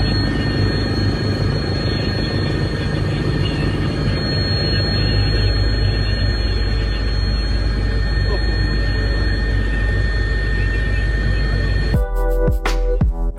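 A police helicopter hovers overhead at night, its engine and rotor making a steady, loud droning hum throughout, with a short burst of clattering noise near the end.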